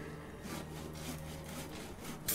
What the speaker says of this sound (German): Im Leben kriegst du mit der Säge den Baum nicht durch